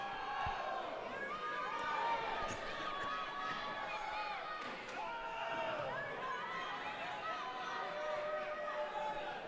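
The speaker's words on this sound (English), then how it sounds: "This hot crowd in Wichita getting behind Chance Carigan with Chance." A lively crowd cheers and shouts at a professional wrestling match in Wichita, a dense, continuous roar of voices that holds steady throughout, with some nearby chatter mixed in.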